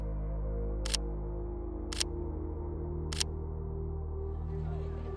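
A camera shutter clicks three times at even intervals, crisp and close, over a low steady background hum on the ghats beside the Ganges in India.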